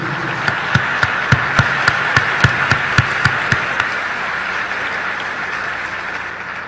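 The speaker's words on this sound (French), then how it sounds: "On encourage le monde de bien avec un gros applaudissement solidarité" A crowd at a speech breaks into loud applause of solidarity, with sharp rhythmic claps in unison at first that loosen into a steady, sustained wash of clapping.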